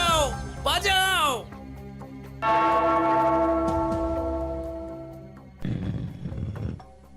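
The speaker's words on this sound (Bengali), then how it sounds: "ওই ঘন্টাটা বাজাও, বাজাও।" A bell in a royal court scene rings out with a long, loud, sustained tone of evenly spaced harmonics that slowly fades over several seconds, following animated shouting and preceding more excited speech.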